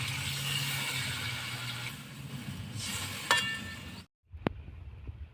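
Fish pieces in hot spiced oil sizzle and fry loudly and steadily as water goes into the pan, then the sound cuts out briefly before a single sharp clink and softer bubbling follow.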